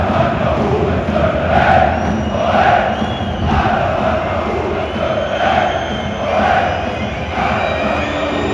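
Football fans chant loudly in unison at a packed stadium during Alemannia Aachen versus Wuppertaler SV, a roaring crowd with rhythmic swells about once per second, no clear talk on top.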